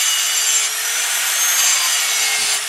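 A metal grinder scuffing a knife blank, a steady loud abrasive hiss and rasp that runs unbroken, close by with no voices.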